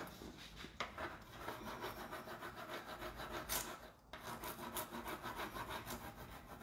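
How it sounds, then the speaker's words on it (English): A hand rubs decoupage film on an old wooden cabinet door, making a continuous close scraping and rasping friction with steady rhythmic strokes and a brief pause near the middle. "So, just giving it a rub there. It's going to start releasing from the film."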